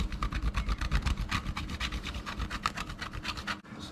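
A large block of 90% cocoa bitter chocolate is grated by hand, a close rhythmic rasping of quick repeated strokes, steady for several seconds before a brief stop.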